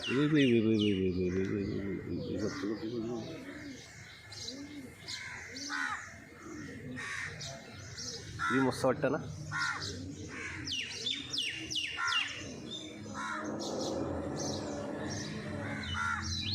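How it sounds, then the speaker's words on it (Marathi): Birds chirp, pigeons coo and crows caw in the morning outdoors, a layered chorus of calls near and far running throughout, with a person briefly speaking partway through. "इकडे अशी मस्त अशी पक्ष्यांची किलबिलाट."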